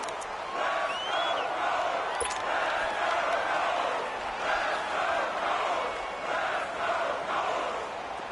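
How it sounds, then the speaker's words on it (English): A football stadium crowd roars in sustained waves ahead of a big third down, distant and continuous, with a whistle-like call rising above it near the start. "the crowd getting into it as we come up on a big 3rd down"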